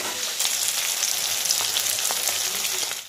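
Steady, close sizzling of crab pieces frying in a hot pan, a dense crackling hiss with small pops running throughout, no voices.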